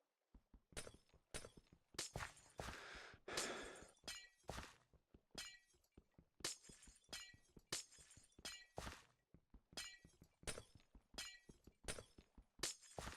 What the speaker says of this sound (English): I hate breaking all this glass after working so hard to make it